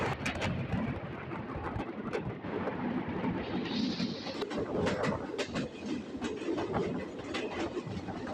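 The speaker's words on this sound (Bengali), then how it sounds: "রাজশাহীর আরেকটি মেল ট্রেন মানন্দ এক্সপ্রেসের সঙ্গে দেখা হয়ে গেল উথলি স্টেশনে" A Rajshahi mail train at Uthli station in Bangladesh, with a continuous heavy rumble and rattle of the cars, rhythmic wheel clacks and sharp metallic clicks, close and steady throughout, with no talking.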